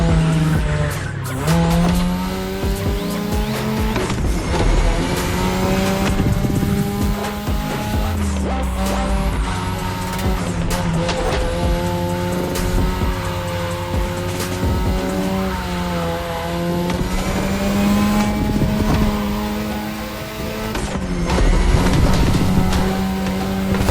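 Racing engines and squealing tires in The Crew Motorfest, a Japan-themed touge drive, with sustained high revving, gear shifts and repeated skids throughout, loud and continuous without speech.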